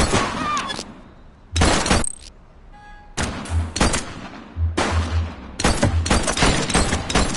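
Gunfire in the video game The Precinct: repeated bursts of shots and heavy impacts break out across the scene, loud and close, with short pauses between volleys and a shout or two under them.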